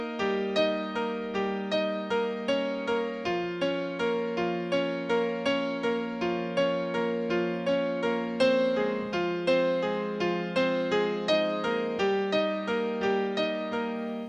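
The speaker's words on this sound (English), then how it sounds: "we're going to actually lift up on the pedal and then put it back down after we change the chords" Piano playing the repeating arpeggiated chord pattern of a song, with the sustain pedal lifted and pressed again after each chord change, so the notes run together in a steady, continuous flowing rhythm.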